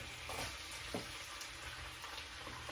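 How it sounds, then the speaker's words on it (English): Chopped onions sauté in a big pot with a soft, steady sizzle and a few faint stirring scrapes, quiet and continuous throughout. "I'm gonna kinda sofreír, which is saute. I'm gonna add my onions as well"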